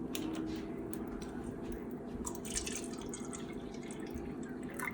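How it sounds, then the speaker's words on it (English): Aquafina water trickles and drips into a glass, a steady close-up stream of small splashes running for several seconds with no talking. "fill this glass with Aquafina"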